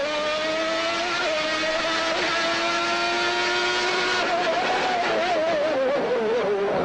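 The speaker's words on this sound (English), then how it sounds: "And we are off on a flyer with Ayrton Senna, and he will certainly be hoping this is the provisional pole lap" Ayrton Senna's Formula One car on a flying qualifying lap at the 1991 Australian race screams at high revs, its pitch climbing and dipping through gear changes and corners, loud and continuous.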